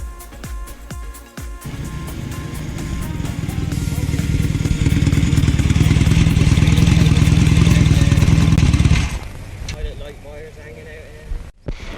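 A Royal Enfield Interceptor motorcycle engine idles, then revs up to a loud, steady drone close by before cutting back and dropping off abruptly.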